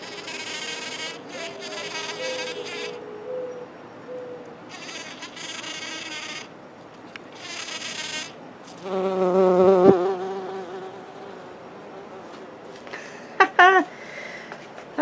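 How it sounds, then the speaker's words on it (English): A bumblebee buzzes around nasturtium flowers in a garden planter, close bursts of humming that come and go with gaps, growing louder as it swings near the microphone. "Oh, there's a bee. Good morning, Mr. Bumblebee."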